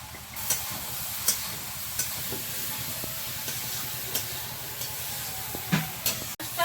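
Shrimp curry fries in a pan with a quiet, steady sizzle and hiss, broken by a few soft stirring clinks at irregular intervals.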